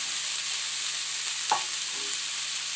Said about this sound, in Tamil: இது எல்லாத்தையுமே சேர்த்து நம்ம நல்லா வதக்கிக்கலாம்.